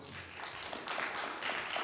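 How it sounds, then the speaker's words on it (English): Round of applause at a Thousand Oaks city council meeting, a soft steady patter of clapping from a small gathering heard at a distance, brief and fairly faint. "A round of applause there if you couldn't hear it."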